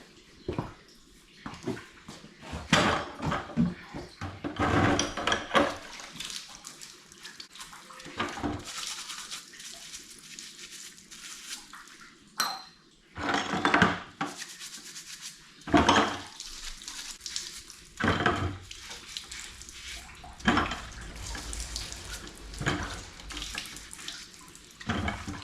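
Milking bucket parts and fittings being washed under a running tap at a sink, with water splashing steadily and clattering bursts of handled parts and rinsing throughout.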